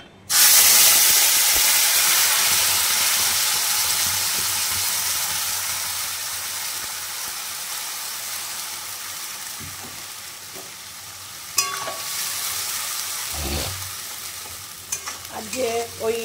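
Hot oil hisses loudly in a pan on a gas stove, a bright steady sizzle that slowly fades across the clip. Brief clatter and knocks come near the end, with no talk.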